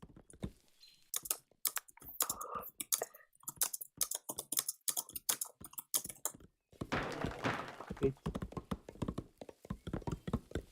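Typing on a computer keyboard comes through as rapid bursts of close, crisp key clicks and heavier thunks, pausing briefly before resuming in a dense, uneven rhythm.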